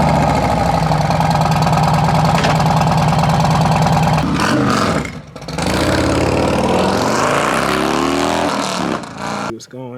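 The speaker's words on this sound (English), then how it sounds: "That D&D exhaust go crazy" A 2021 Harley-Davidson Road Glide CVO with a D&D exhaust runs close by, a loud deep throbbing idle that drops off sharply midway, then returns rough and uneven with a brief dip near the end.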